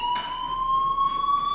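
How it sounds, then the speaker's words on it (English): Electronic fire alarm in the video game Life Is Strange, a steady high-pitched continuous tone ringing loudly and unbroken throughout. "Hey, do you hear that fire alarm?"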